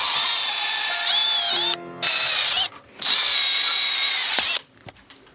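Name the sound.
drilling holes in aluminum tube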